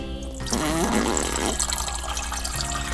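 Water sloshing and gurgling as a toy sucks up red-colored water, a close, continuous liquid trickle and bubbling with a brief louder slurp near the start.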